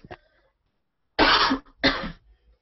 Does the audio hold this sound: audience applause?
no